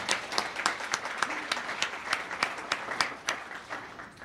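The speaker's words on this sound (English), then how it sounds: "So let's give them all a round of applause." Audience applause at a chamber of commerce leadership awards event, moderate steady clapping with distinct individual claps, fairly soft and even throughout.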